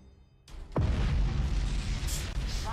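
Nova cannon explosions in the space strategy game Battlefleet Gothic: Armada II, Warhammer 40k Necrons campaign: a sharp onset followed by a heavy, sustained deep boom with rumbling blasts rolling on throughout.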